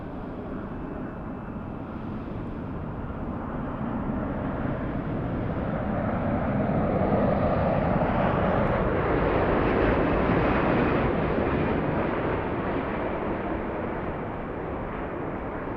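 A United passenger jet from Newark arriving at LAX, its broad engine roar swelling as it passes close overhead, peaking mid-clip, then easing slightly, steady and alone without talk.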